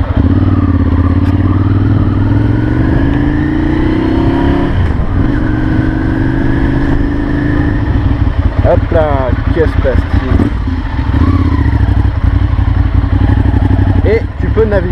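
A Ducati Monster 796 motorcycle rides through Paris streets. A loud, steady engine note rises and falls with throttle changes, with a few quick revving bursts midway, and someone talks over it.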